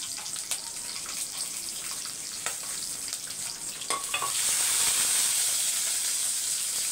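Green chilies and whole small onions fry in hot oil, a soft steady sizzle with stirring clinks that swells louder toward the end, no talking.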